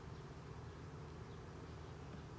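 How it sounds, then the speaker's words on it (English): Honeybees buzz steadily in a continuous close drone while a hive is inspected and frames are handled, the hum unbroken and fairly soft throughout. "So we're going to shake the bees there."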